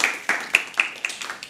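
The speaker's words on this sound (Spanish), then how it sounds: "Un fuerte aplauso para Carlos." A short burst of hand clapping from a small audience at a talk, sharp irregular claps fading over a second or two.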